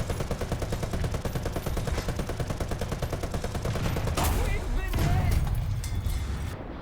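A .50 cal machine gun on an M3 Stuart tank in a War Thunder-style game fires a long, rapid burst of evenly spaced shots. The shots end in a couple of heavy booms and rumbling, loud and close.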